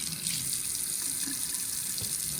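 Warm water runs steadily from a tap into a jar, a continuous close splashing flow with no talking.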